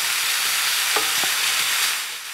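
Onion cooking down in a hot pan shortly before garlic goes in, for homemade gnocchi: a steady close sizzle and hiss, with a couple of brief stirring scrapes partway through.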